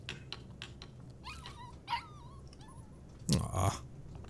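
A dog in Life Is Strange 2 lets out several short, high whimpers and yips with one louder yelp near the end, heard over a quiet game background.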